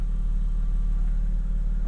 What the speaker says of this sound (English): You do have adaptive exhaust in this car, so you can hear